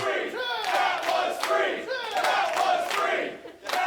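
A pro wrestling crowd at a Dojo Pro event chants and yells in rhythmic waves, loud and close, with bursts of voices rising and falling over about four seconds.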